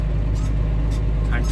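Farm tractor towing a trailer into another field during the first day of oat harvest, a steady low engine drone close by with faint intermittent rattles and a voice talking over it.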